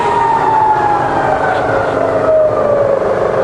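A Bridgeport milling machine spindle drops from 300 to 120 RPM, its motor whine sliding gradually lower in pitch over a constant mechanical hum, loud and close with no voices.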